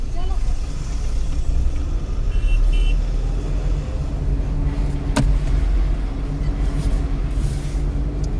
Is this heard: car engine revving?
yes